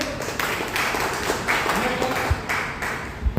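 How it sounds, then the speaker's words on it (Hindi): Audience applause for the SVPS Wellness organization at a Hindi-language gathering, a dense continuous clatter of clapping hands throughout with a few sharper taps. "एक बार हमारी संस्था के लिए जोरदार ताली होनी चाहिए।"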